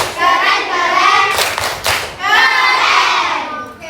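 A primary school class claps out the rhythmic 'tepuk keren' chant in a classroom, with bursts of clapping and children's voices chanting along.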